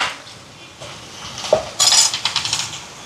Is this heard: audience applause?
no